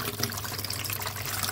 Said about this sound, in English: I'm going to pump some water out